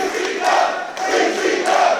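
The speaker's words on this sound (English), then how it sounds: "The crowd showing their appreciation for the athleticism of Amber Nova" A wrestling show crowd cheers and roars for a high-flying woman wrestler, a dense wash of voices rising in two swells over two seconds, loud and close.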